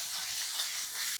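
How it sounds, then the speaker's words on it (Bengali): Salt, turmeric and chili powder sauté in hot oil with a steady, soft hiss and a brief scrape near the end. "হলুদ গুঁড়ো দিয়ে দেবো পরিমাণ মতন, লঙ্কার গুঁড়ো পরিমাণ মতন দিয়ে ভালো করে কষিয়ে নেব।"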